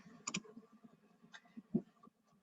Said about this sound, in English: I'm sorry my typing is gonna be a little loud